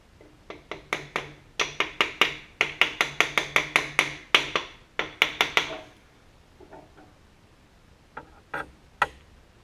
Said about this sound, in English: So I'll just tap it down with the plastic hammer.